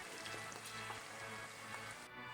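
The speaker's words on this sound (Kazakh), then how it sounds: "1 килограмм картопты аршып, ұзыншақтап етіп турап, майға қуырамыз" A kilogram of peeled potatoes cut into long strips fries in hot oil, giving a steady, soft, even sizzle with fine crackles and no talking.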